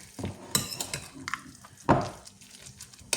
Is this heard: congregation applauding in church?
no